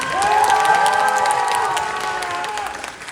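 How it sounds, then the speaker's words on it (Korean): A packed audience at a Busan International Film Festival guest talk on a Saturday night, with the Broker guests, breaks into loud, sustained applause and cheering, with shouts and whistles over steady clapping that fades slightly toward the end. "박수 한 번만 더 부탁드릴게요"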